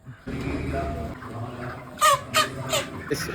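Chickens cluck and squawk in short, loud bursts over a murmuring indoor background, several calls in quick succession toward the end.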